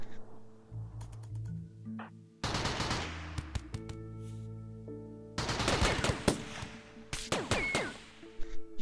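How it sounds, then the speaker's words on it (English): Minigun fire in RimWorld, with rapid sustained bursts of game gunfire arriving in several loud volleys separated by short pauses, alone without talk. "You do have a minigun."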